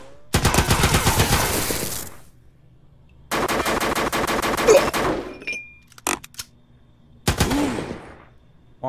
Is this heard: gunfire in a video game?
yes